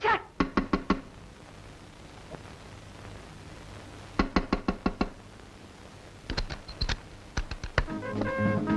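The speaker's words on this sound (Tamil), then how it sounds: "5 நிமிஷமா கதவை தட்டுறேன்" Knocking on a door in groups of four to six sharp raps with pauses between, loud and close, in a scene from a Tamil comedy sketch.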